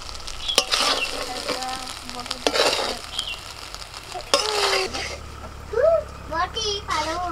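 Fried rice sizzling and being stirred in a pan as a fried egg is added, with clattering scrapes and bursts of frying noise under a voice and other talking.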